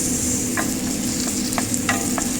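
Onion sautéing in butter in a pan, a steady close sizzle with a few light scraping stirs over a couple of seconds, no voices.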